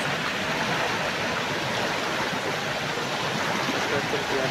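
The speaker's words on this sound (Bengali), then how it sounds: "জল বেরোচ্ছে" Water gushing out and flooding around a fox burrow beside a fish-farming canal, a dense, continuous rushing wash, steady and fairly close throughout.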